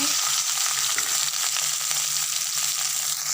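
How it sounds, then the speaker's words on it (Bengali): Okra pieces fry in hot oil for a spiced bhindi and potato dish, a steady, close sizzle with faint stirring scrapes and no talk. "ভেন্ডিগুলো কত সুন্দর ভাজা হচ্ছে"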